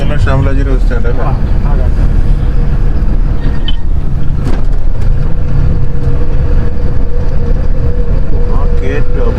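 A Mahindra Bolero drives by on a busy truck route, its engine noise blending into a loud, continuous roar of nearby traffic, with someone speaking at times beneath the din.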